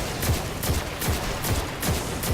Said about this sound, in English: let's shoot a couple times in the body